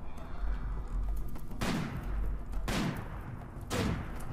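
Three sharp gunshots in the RimWorld video game, evenly spaced about a second apart, each a crisp crack with a short tail over a steady low background rumble.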